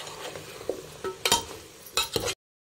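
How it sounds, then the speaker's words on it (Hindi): Pumpkin pieces stirred into dalcha in a cooking pan, with soft scraping and a few sharp spoon-on-metal clinks in short bursts over a low sizzle. "इसको भी अच्छे से मिक्स कर लेंगे।"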